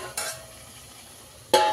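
Chicken curry is stirred in a pan, two brief scraping bursts of a utensil against metal separated by a quiet low simmering background, no voices.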